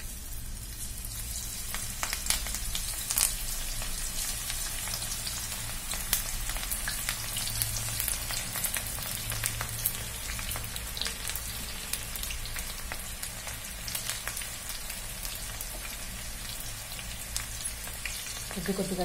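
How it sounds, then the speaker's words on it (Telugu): Pakoda made from wheat flour batter fries in boiling oil, a steady, close, rain-like sizzle with scattered sharp pops that carries on throughout. "ఇప్పుడు నూనె మరిగింది, ఇప్పుడు పకోడా వేసుకున్నాం."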